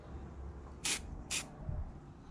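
Two short hissing bursts of an aerosol antiperspirant deodorant spray can, close by, separated by a brief pause against a quiet background.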